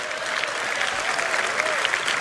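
A crowd applause sound effect plays as a steady, dense burst of many hands clapping at moderate loudness, sustained throughout with no talk over it.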